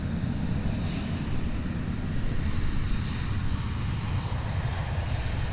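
A Singapore cargo Boeing 747-400 touching down at DFW Airport, a steady loud broadband engine roar with deep low rumble holding throughout, no voices.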